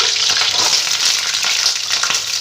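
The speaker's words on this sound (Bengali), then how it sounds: "আমি এবার কয়েকটা আলু ভেজে নেব" Potato halves fry in hot mustard oil in a pan, giving a loud, dense, unbroken crackling sizzle up close, with no voices.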